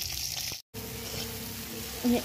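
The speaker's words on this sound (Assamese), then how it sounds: "এয়া আকৌ মাছৰ কাৰণে বিলাহী ভাজি আছো" Tomatoes frying in a pan for fish curry, with a soft, quiet sizzle and a short gap of silence, then a brief stir or clatter near the end.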